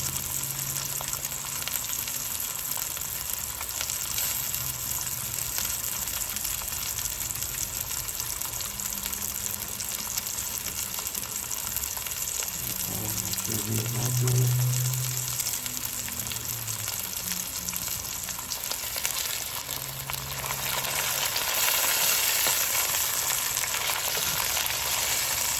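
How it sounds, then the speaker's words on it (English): Chicken bouillon is stirred into water in a cooking pot as a broth substitute, giving a steady faint hiss and watery swirl with soft clinks of the spoon, heard alone without talk. "That's what I'm doing right now, stirring it up. We want that chicken bouillon to come together with that water."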